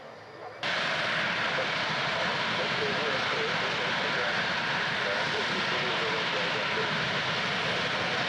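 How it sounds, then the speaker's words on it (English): A SEPECAT Jaguar jet taxiing down the runway at the RAF Cosford Airshow in 2015 roars in suddenly after a quiet start, then holds a loud, steady, broad engine whine to the end. "the second of the two Jaguars, taxiing down the runway now"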